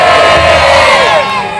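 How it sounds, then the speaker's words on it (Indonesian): A crowd at an Isra Mi'raj religious gathering cheers and shouts loudly and continuously, a dense wall of voices that fades slightly near the end. "Tepuk tangan semuanya yang ikhlas."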